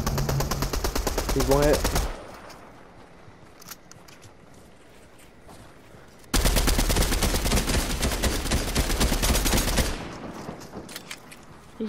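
Loud automatic gunfire from the video game Fortnite crackles in a dense two-second burst, then after a quieter lull another sustained volley rattles for about four seconds, with a player's voice speaking briefly over the shooting.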